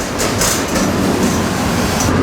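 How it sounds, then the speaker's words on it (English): Freight train rolling out of Miami at about 15 mph at night, heard from aboard: a loud, continuous rumble of wheels on rails with rattling and occasional hissing bursts. "And I'm on this train."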